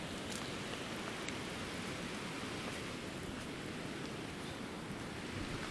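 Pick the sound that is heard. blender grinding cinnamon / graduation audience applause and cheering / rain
rain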